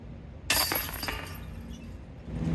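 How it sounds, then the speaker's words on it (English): A 1986 Whammo Frisbee putter strikes the chains of a disc golf basket on a wet course at Millwood Creek in Mystic, Connecticut. It makes one sharp metallic clatter that rings briefly and then fades. "Got a little love from the chains with my 86 Whammo Frisbee putter."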